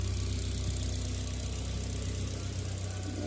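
A 2014 Ford Fiesta 1.4 engine idling steadily, a close, even low rumble with a regular pulsing beat and no voices.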